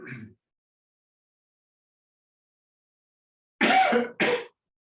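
A short burst of coughing: one brief sound at the start, then two sharp coughs in quick succession after a long silence.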